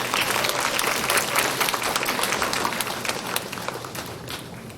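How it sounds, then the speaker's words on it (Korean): A school audience at a Korean admissions information session for incoming 2024 students applauds as the principal is welcomed, a dense, loud burst of clapping that stays full and slowly tapers toward the end. "큰 박수 부탁드립니다."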